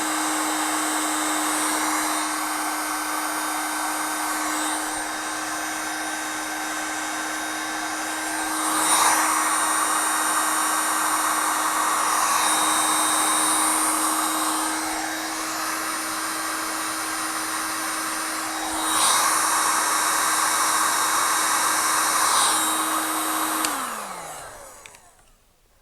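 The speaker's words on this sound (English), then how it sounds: "Get the old heat gun." A heat gun blows hot air onto heat shrink tubing during a GM engine wiring harness build, a loud steady whirring hiss that runs for about 24 seconds and then winds down as it is switched off.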